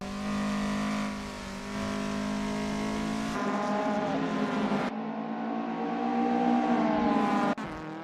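Race car engine from an MK1 Golf in a sim racing game, revving loud and steady, with pitch rising and dropping through gear changes over eight seconds and no talk.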